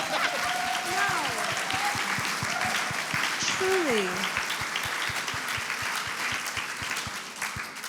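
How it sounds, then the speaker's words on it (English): Audience applauds singers at a Works & Process performance of El Niño at the Guggenheim, a dense sustained clapping that fades slightly toward the end, with brief spoken words over it. "let's give them a round of applause"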